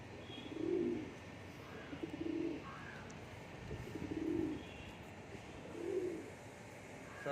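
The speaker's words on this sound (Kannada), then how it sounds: "ನೋಡಿ ಎಷ್ಟು ಗುಮಾಯಿಸ್ತೈತೆ ಗಂಡು ಅಂತ" A male pigeon coos in four low, rounded phrases spaced a second or so apart, fairly close and alone against a faint background hiss.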